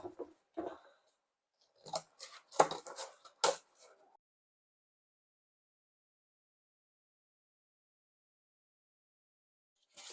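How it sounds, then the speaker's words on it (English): Scissors cutting a heart shape out of material for a dried citrus Valentine's wreath, with a cluster of close snips and rustles over the first few seconds, then silence until a faint click at the end. "Now we're going to cut out our heart."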